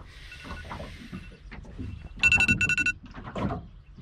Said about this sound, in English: Oh, it was my alarm.